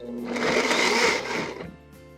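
A blender pulses hot tomato soup in a kitchen, giving one loud, whirring burst of about a second and a half that then winds down.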